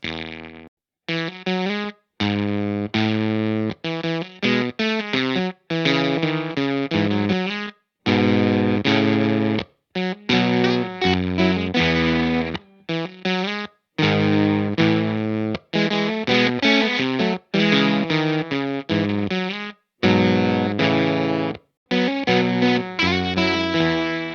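Heavily distorted fuzz guitar plays a three-voice fugue arranged from a pop song, interweaving melodic lines in short phrases separated by brief pauses, loud and buzzy throughout.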